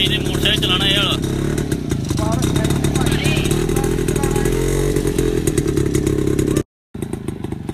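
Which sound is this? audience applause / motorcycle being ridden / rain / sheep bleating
motorcycle being ridden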